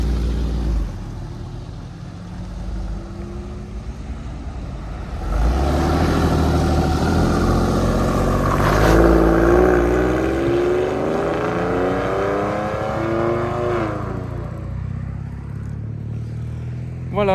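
A 22-year-old Porsche 911 Carrera with 248,000 km idles quietly, then its engine revs up into a loud sustained roar that climbs and falls in pitch before settling back toward idle, with no talking.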